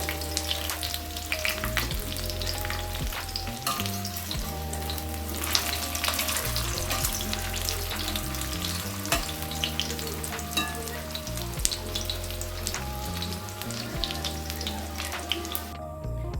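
Katla fish chops frying in a pan of oil give a steady, close sizzle with soft bubbling throughout, while background music plays underneath.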